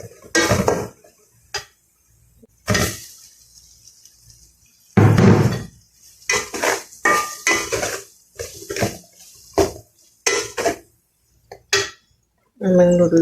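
Noodles being tossed with Maggi noodle masala in a pan, heard as short bursts of clinking and scraping from a utensil against the pan, with pauses in between.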